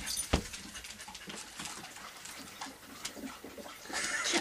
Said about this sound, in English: that's my dog drinking from the